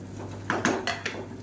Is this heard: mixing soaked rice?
yes